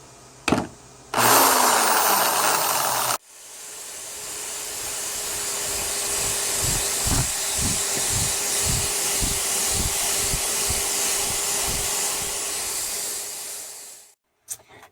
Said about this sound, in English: Let's see if we can get some power tools in here.